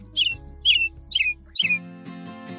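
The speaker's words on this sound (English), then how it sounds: "A bird comes by and eats one seed." Four harsh bird squawks, loud and close, come in an irregular series over about two seconds, set over soft tonal background music with a low hum.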